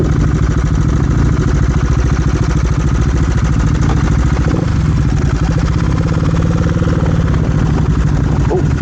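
A CCM Stealth Bobber 600cc motorcycle engine runs continuously and loud at close range, a steady low throbbing rumble with a brief dip and rise as it pulls away, with wind noise and no talk.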